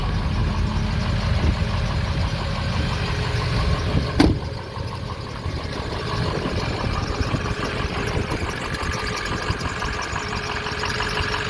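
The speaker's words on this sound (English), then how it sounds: "So it's got a little bit of belt squeal." A 2006 Ford F250 Lariat 4wd pickup with an older belt idles nearby, producing a steady, even engine rumble with a faint high squeal running through it and one brief sharp click partway through.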